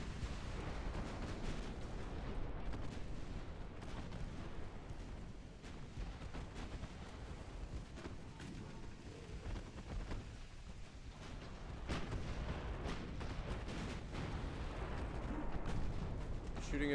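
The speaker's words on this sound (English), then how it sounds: "Shooting at the heavy cruiser all the way in the back. Secondaries are focusing the light cruisers. Big hits and an ammo detonation." Naval gunfire and shell hits on cruisers in Ultimate Admiral Dreadnought, a continuous rumble of distant heavy guns and impacts with sharper cracks scattered throughout, a voice talking over parts of it.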